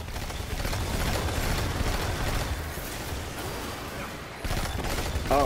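A rapid-fire weapon shoots in Destiny 2, the Menagerie: a dense, continuous stream of fast shots, loud and close, running almost the whole time with a brief gap near the end.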